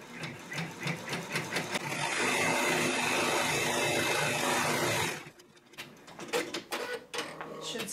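An embroidery machine stitches the placement line for a hat, a fast even mechanical chatter at close range that runs steadily for about five seconds and then stops, followed by faint handling clicks.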